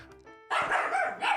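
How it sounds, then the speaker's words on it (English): Pet dog barking during a sports talk show, giving a few sharp, loud nearby barks right after a faint tonal lead-in. "Oh no, you're hearing that dog."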